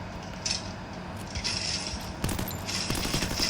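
Rapid bursts of gunfire from a Free Fire battle royale match crackle over steady game background noise, with several shots clustering in a dense volley toward the end.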